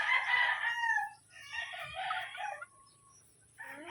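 A gold stag gamefowl rooster, a pure Super Brown Red crossed with Super Gold on a gamefarm, crows loudly and close, with a second crow trailing off and a third starting at the end.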